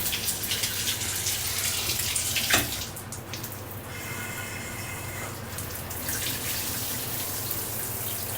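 Hot water gushing from a Moen tub faucet into the bathtub, a steady rushing flow with a brief knock partway through and a slight drop in level, otherwise continuous and without voices.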